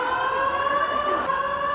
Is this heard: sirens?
yes